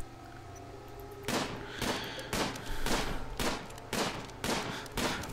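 Gunfire in the RimWorld video game, a fast run of about seven loud booming shots spaced under a second apart, following a quieter low hum.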